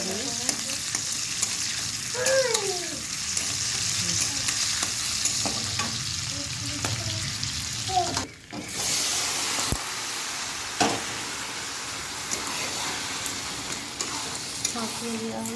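Black cumin, onion and green chilli sizzle and crackle in a frying pan with steady hiss, broken by a few utensil scrapes and stirring clatters; a brief voice is heard faintly.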